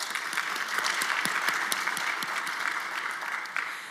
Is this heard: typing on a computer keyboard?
no